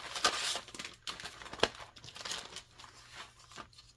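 A big plastic bag crinkles and rustles in irregular bursts as it is handled up close, with sharp crackles between quieter moments.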